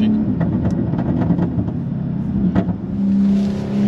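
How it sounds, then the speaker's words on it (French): A V6 car engine revs and drones steadily near the listener, with a low rumbling hum, a few brief surges and a smoother rise in pitch toward the end. "Là vraiment par contre le bruit du V6 il est magnifique."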